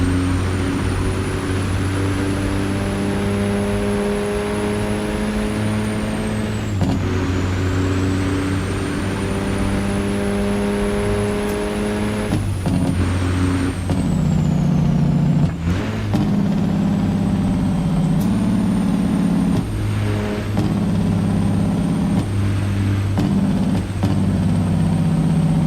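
An 850-horsepower semi truck engine labours as it pulls uphill on a road, a loud continuous diesel drone that climbs and drops in pitch through gear changes, with a brief hiss partway through.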